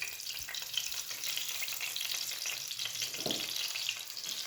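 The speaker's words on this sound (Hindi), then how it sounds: "ये देखें उसमें डिप करके तो अब इसको फ्राई करेंगे" Battered cabbage rolls fry in oil, giving a steady, dense sizzle and crackle throughout, with a soft low knock or two from the pan.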